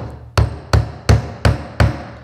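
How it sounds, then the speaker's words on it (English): A Stanley 16 ounce fibreglass claw hammer works on nails, giving five sharp, loud, evenly spaced metallic strikes, close and alone with no talking. "Nails are in, simply put it underneath, lever it out."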